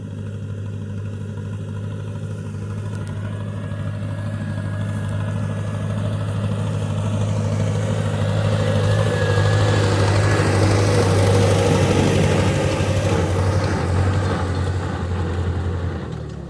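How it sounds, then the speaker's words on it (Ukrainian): A small tractor engine chugs steadily at idle in a village field, close and loud, its rumble swelling slightly midway before easing. "Працює двигун тракторця."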